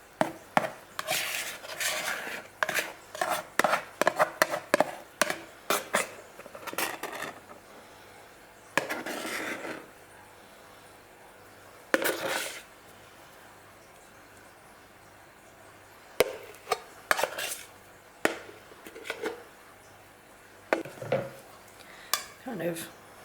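Beer bread batter scooped from a bowl and spread into an oiled baking tray, giving a run of close, scraping and clattering spoon-on-tray bursts separated by short pauses.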